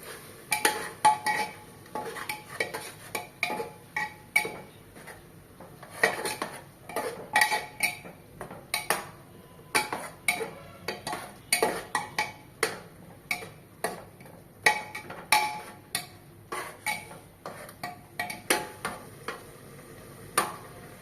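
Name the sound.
stirring chicken with tomato and onion paste in a pot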